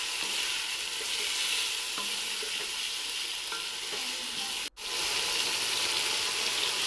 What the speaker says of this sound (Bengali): এখন আবার একটু কষিয়ে নিব একসাথে মিক্স করে।